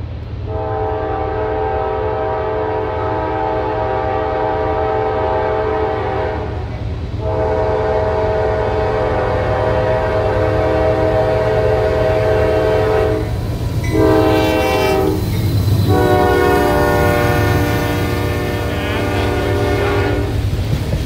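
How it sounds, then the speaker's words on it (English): A mixed manifest freight train passes on the nearest track, loud and close, with a sustained multi-tone horn broken by short gaps over a continuous rumble of rolling cars. "I believe this is a mixed manifest train."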